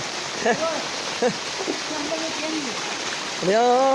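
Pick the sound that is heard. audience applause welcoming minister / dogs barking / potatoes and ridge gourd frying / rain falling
rain falling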